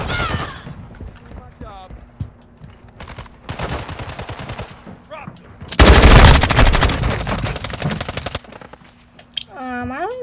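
Rapid automatic gunfire in Warzone Mobile multiplayer, loud dense bursts of shots in two long stretches with shorter pops between, close up, with a player's voice speaking over and between the firing.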